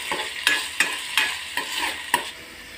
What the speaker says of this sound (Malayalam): ഇത് ഒരുപാട് വെന്തൊടയേണ്ട ആവശ്യമില്ല, അതിൻ്റെ ആ പച്ചമുളകൊക്കെ ഒന്ന് മാറുന്നത് വരെ ഒന്ന് വേവിച്ചെടുക്കാം.